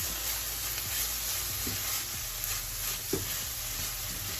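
Bulgur sautéing in oil in a pan, a steady close hiss of sizzling with a few soft stirring scrapes, alone with no talking.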